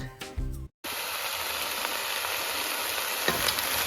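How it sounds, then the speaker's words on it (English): Onions and carrots sautéing in a pot for butternut sweet potato soup, a loud steady sizzle and hiss after a brief clatter and pause at the start, with a few faint stirring knocks. "So we've sauteed it for about 5 minutes just to get some caramelization on those onions, carrots"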